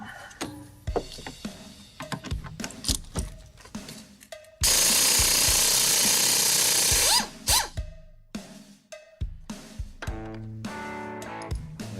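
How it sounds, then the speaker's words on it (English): A power tool, likely an impact gun, works loose the pinch bolt on a Jeep Wrangler steering shaft: a loud, steady whirring burst lasting a few seconds, set between close metallic clanks and ratcheting clicks of tools. "take the bolt out of the pinch assembly right there and get that one apart"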